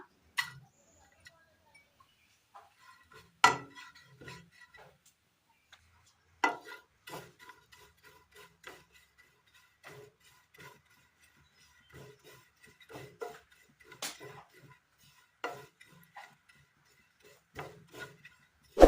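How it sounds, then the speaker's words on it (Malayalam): Grated coconut stirred in a pan on the stove, a faint scattered series of light scraping clicks and taps of a utensil against the pan, irregular and quiet with near silence between them. "അടുപ്പത്തൊരു പാൻ വെച്ച് കൊടുത്ത് അതിലേക്ക് ഒരൽപ്പം തേങ്ങ ഇട്ട് കൊടുക്കാം"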